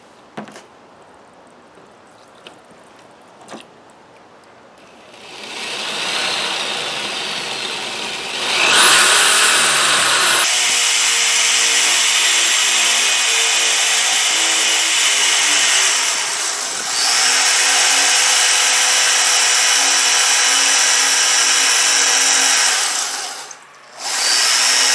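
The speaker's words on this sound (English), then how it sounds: "we're back, and got the corded drill" A corded electric drill bores a hole in stone near water, its loud continuous whine starting after several seconds of quiet and holding steady for most of the clip with brief dips in load, then cutting out near the end.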